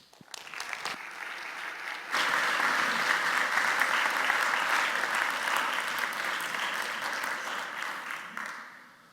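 An audience in a lecture hall at the 6th Heidelberg Laureate Forum breaks into sustained applause, with steady clapping that builds quickly and then slowly fades, heard alone.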